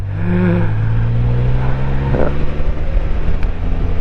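A 2024 Can-Am Spyder three-wheel motorcycle's engine drones loud and close while riding. A brief change in engine note midway marks an automatic downshift over steady wind rush.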